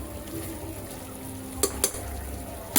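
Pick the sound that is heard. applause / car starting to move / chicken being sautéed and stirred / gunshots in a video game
chicken being sautéed and stirred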